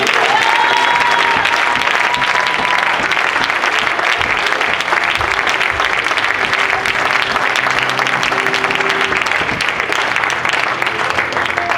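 A church congregation at a francophone conference applauds loudly and steadily for the whole stretch, a dense wash of clapping that fills the hall, with a few faint voices buried in the crowd.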